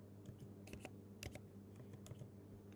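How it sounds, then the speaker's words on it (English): Quiet keystrokes on a computer keyboard as a prompt is typed into a text-to-speech tool, a scattered run of taps over a steady low hum with no speech. "let's say for example we were to type in a prompt"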